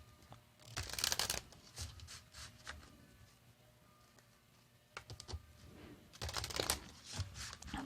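Cards are shuffled for a reading in quick rustling bursts, one near the start and another near the end, with quieter riffles and handling in between, close and fairly soft.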